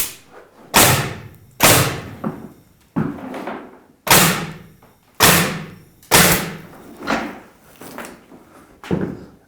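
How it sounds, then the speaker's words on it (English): Metabo HPT NR83A5 framing nailer firing nails, a series of about ten sharp close pneumatic bangs, each with a short hiss of air trailing off, spaced roughly a second apart, with no talk. "So now with the nails back in, we can test it out. You'll hear some air like that when you squeeze the trigger."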